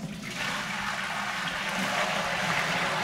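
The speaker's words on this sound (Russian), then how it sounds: "Заливаем воду." Reverse osmosis water pours steadily into an empty marine aquarium, a continuous loud splashing rush that holds at a constant level throughout.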